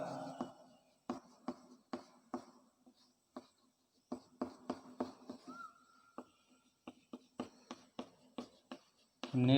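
Chalk or pen tapping and scratching across a board or paper during a Hindi-language teacher-training lecture, a series of short, sharp strokes in irregular bursts, moderately close, with brief pauses between words.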